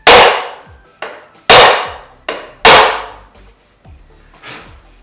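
Sharp hammer taps setting frets into the neck of a 1983 El Toro bass, five distinct strikes each followed by a short ringing decay, close and loud with no talk.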